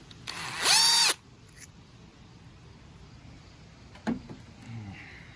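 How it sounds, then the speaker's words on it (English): A power drill whirs in a short burst of under a second while renewing a light socket, followed by faint handling clicks and a second brief, quieter mechanical whir. "So here's the drill."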